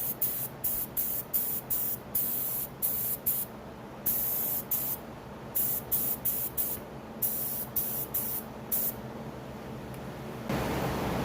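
Bursts of aerosol spray paint on motorcycle foot pegs for a first coat, hissing in quick short pulses with brief gaps, then longer steady sprays, close and fairly loud with no voices.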